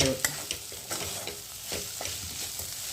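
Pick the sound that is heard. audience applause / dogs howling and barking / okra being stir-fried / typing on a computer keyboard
okra being stir-fried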